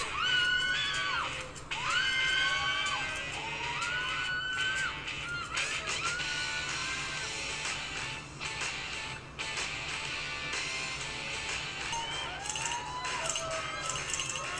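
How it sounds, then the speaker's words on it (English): A crowd of excited fans screams in shrill, rising and falling waves that nearly fill the whole stretch, loud and dense, with scattered shouting voices mixed in. "Boy, they are screaming."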